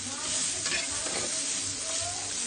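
Spices and noodles fry in oil with a loud, continuous sizzle, while a utensil stirs and scrapes through the pan close by.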